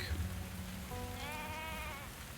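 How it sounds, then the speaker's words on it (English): A sheep in the video game Tavern Talk bleats once in a long wavering call over a steady patter of rain in the background. "Whose sheep is that?"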